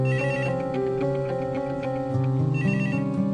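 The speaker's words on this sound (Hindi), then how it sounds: "आप फोन क्यों नहीं सुन रही हो?" A phone ringtone plays a repeating melodic pattern of tones, clear and fairly loud, continuing without pause and with no speech.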